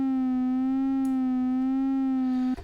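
A steady, bright synth tone from an Arturia CS-80V software synthesizer holds a single pitch with faint wavering modulation and rich overtones, then cuts off abruptly near the end with a brief noisy tail.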